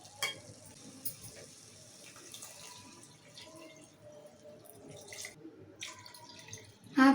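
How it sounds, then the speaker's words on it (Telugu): Water is poured into a pan of potatoes that were first cooked in oil for a curry with tomato and fenugreek leaves. It makes a faint splash and trickle with light sizzling, then a louder burst at the very end. "తగినన్ని వాటర్ పోసుకుందాం"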